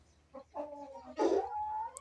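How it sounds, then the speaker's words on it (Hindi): Champion Aseel rooster, near and fairly loud, gives a short clucking call that swells into a strained, harmonic crow lasting under a second, with faint rustling and a brief sharp noise at the end. "मेरा ब्रूसली चैंपियन मुर्गा"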